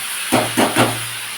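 Cauliflower stalks dropped into a pan of frying vegetables give three short sizzling bursts close by, followed by a steady hiss of frying with no talk.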